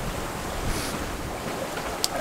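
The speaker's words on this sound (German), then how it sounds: "rollt das Boot dann sehr stark beim Vorwindkurs, weil die Wellen von hinten kommen" Sea waves and wind wash steadily around a sailing boat running downwind off the Dutch coast between Ameland and Borkum, with waves coming from behind; a continuous near rush of water and wind noise.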